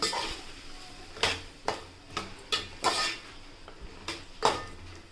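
Moringa drumsticks, tomato and potato are stirred in a metal pot for a spicy dried ambadi curry, with a spoon scraping and clinking against the pot in irregular strokes, close and fairly quiet, with no talking.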